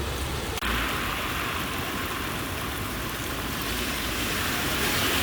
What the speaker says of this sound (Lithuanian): Tiesiog lyja nuo kalnų žemyn